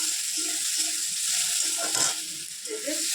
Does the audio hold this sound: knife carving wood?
no